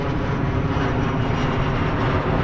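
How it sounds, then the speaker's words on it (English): A fixed-wing airplane flies overhead near Oakland International Airport above Alameda's Bay Farm Island, a loud, steady broadband engine roar that holds throughout without any voices. "There's a lot of airplanes flying above Alameda because nearby is the Oakland International Airport."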